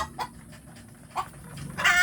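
Free-range village chickens kept on leftover rice cluck in short, soft bursts, a few scattered calls at moderate distance over a quiet background.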